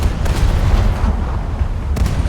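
Heavy naval guns of the battleship Kongo boom in a naval warfare game, a dense continuous rumble of low blasts with sharper reports near the start and again toward the end, loud and close with no voices.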